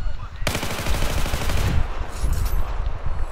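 Sustained rapid gunfire from a DMR rifle in a Battlefield-style video game: loud, dense bursts of shots starting abruptly and continuing throughout, with game sounds layered underneath.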